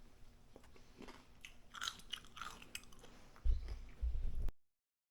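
Biting into crispy smoked pork belly from a Pit Barrel Cooker, with close crunching and chewing, then a couple of louder thumps near the end before it cuts to silence.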